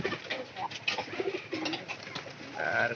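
Pigeons coo softly in a series of low, rolling calls, fairly quiet and close, with a few faint chirps and light background noise.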